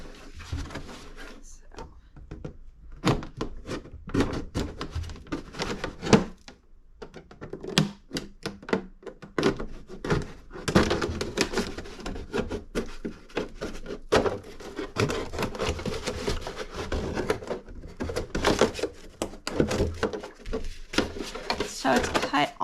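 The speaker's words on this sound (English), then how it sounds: "I'm going to cut almost all the way around the jug." A knife cuts almost all the way around a plastic jug, giving scraping, crunching and thunking plastic sounds in irregular bursts close by, with a person talking over much of it.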